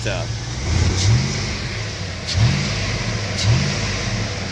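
A Vortec 5.7 V8 engine idles with a low, uneven rumble and tapping, rising in three brief revs spaced a second or so apart.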